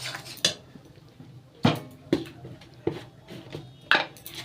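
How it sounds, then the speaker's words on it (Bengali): A utensil stirs homemade mango kasundi with vinegar and mustard oil in a pot, making about seven sharp clinks and scrapes at irregular intervals over a quiet background. "দিয়ে এবার এটাকে বেশ কিছুক্ষণ নাড়তে হবে।"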